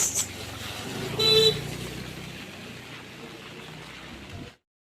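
Light rain patters on a quiet street while a car passes close by with a brief swell of engine and tire noise, then the wet hiss continues evenly before stopping abruptly.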